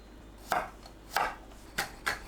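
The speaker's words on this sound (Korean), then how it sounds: "마늘을 편으로 썰어줍니다" Knife slicing garlic into thin pieces on a cutting board, four crisp chopping knocks spaced roughly evenly, close and clear over a quiet background with no voices.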